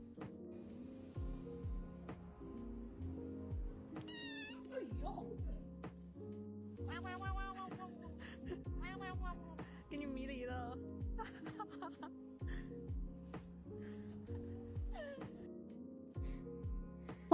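Several cats meow in short, rising cries scattered through the clip, mixed with talking and a quiet musical backing, some calls fairly near and others softer.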